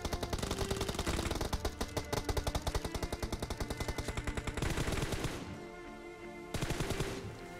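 Rapid automatic gunfire in PUBG Mobile, a loud, close burst of evenly spaced shots for about five seconds, a short pause, then another burst.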